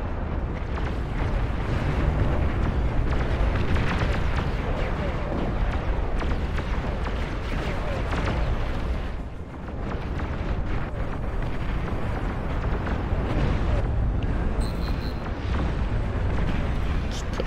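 Nuclear missile explosions in the Beyond All Reason strategy game: a continuous loud roaring, rumbling barrage of blasts and booms that fills the whole stretch, with a brief dip near the middle and faint voice announcements.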